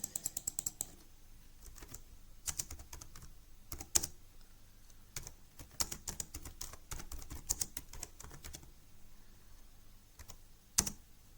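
Typing on a computer keyboard, with steady bursts of crisp, close key clicks and brief pauses over a faint room hum, no voices present.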